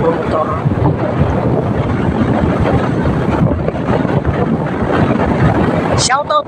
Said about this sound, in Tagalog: Tinanggalan po muna namin ang bubong at medyo malakas ang hanging amihan.